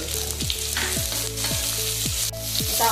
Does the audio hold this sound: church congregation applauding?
no